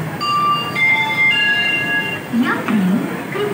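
Gol Gumbaz express train at KSR Bengaluru station, with tonal rail and wheel squeals, a brief low hum and a rising and falling whine near the end, over steady platform noise.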